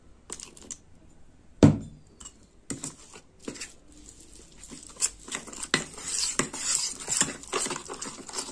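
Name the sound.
mixing ingredients in a bowl with water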